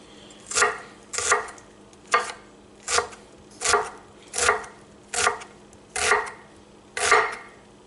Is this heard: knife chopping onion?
yes